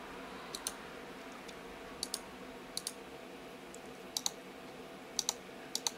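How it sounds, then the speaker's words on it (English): Sharp clicks from the buttons of a Havit MS976GT gaming mouse, in pairs and short bursts at irregular intervals, close and fairly crisp against a faint room hiss, with no talking. "Check out the buttons. Nice sounding click on that."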